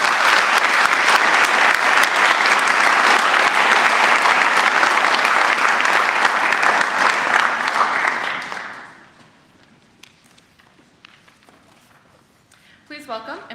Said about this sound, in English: Class of 2026, please join me in giving Sean a strong round of applause.